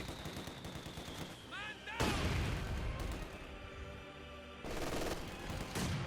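PPSh-41 submachine gun fire in the Company of Heroes 2 battlefield, bursts of rapid rattling shots that swell at two points and mix with distant explosions and general combat din.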